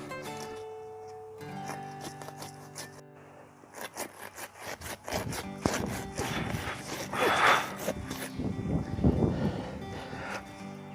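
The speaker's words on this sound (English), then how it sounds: "We'll get the pruning saws just so I can go a bit deeper." A pruning saw cuts back and forth into banana tree roots in soil, with rhythmic rasping strokes that start sparse and become steady and louder, close up and without talk.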